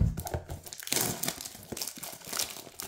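A pack of 2023 Archives baseball cards rips open up close, its foil wrapper crinkling and tearing in a run of busy, uneven bursts for about three seconds with no voice over it.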